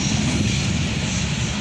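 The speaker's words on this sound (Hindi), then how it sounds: "डबल इंजन जा रहा है इसको लेके।" An up goods freight train with a double engine led by an HGMU30 locomotive passes nearby, a loud, continuous low rumble and roar with no break and no talking.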